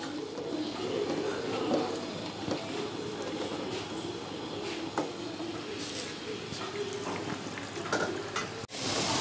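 Grated carrot halwa with milk powder roasting in ghee in a pan, a steady close sizzle and frying crackle with light scraping of stirring throughout.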